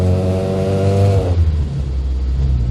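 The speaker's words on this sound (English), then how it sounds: "I'm not using any choke, and the idle's still at about 1800 RPM, which I think is probably a little bit too high" Classic Mini engine idling steadily at a raised 1800 RPM with no choke, a loud, close, even low drone with strong harmonics for the first half before shifting to a rougher, broader rumble.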